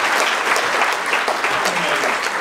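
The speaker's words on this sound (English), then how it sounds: "Can we actually applaud that?" A live audience claps steadily and loudly throughout, a dense, continuous burst of applause with no talking over it.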